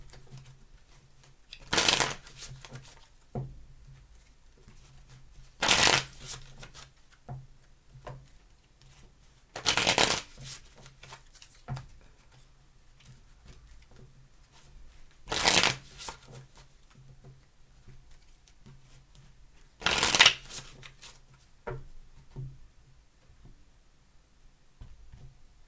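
Tarot cards are shuffled in five distinct bursts spaced several seconds apart, each a brief riffling flutter close by, with quiet handling noise between them.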